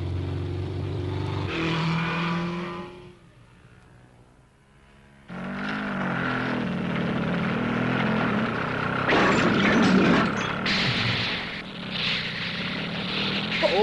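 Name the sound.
propeller airplane engine running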